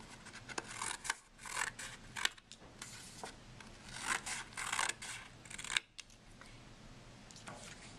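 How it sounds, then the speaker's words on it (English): Scissors cut a curved line around the corners of a paper square to make a circle, giving close, quiet snipping and rasping strokes in uneven bursts with brief gaps, no talk. "In order to cut a circle out of a square, you cut a curved line, cutting off the corners"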